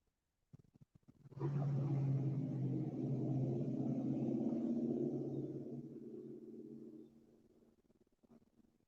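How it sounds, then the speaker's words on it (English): A vehicle passing near a kayak fishing spot, heard as a low rumble that swells for about six seconds and then fades, moderately distant and alone. "Sorry about all the car noise"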